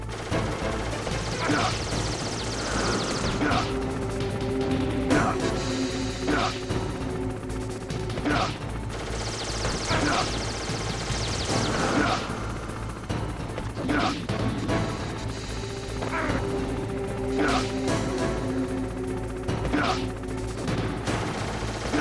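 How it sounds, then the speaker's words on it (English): Loud, continuous rapid-fire gunshots and crashing impacts over a droning mechanical rumble, bursts recurring every few seconds with little letup, from a Hind helicopter gunship in Metal Gear Solid. "you should be able to dodge the gunfire from the Hind while you rappel down"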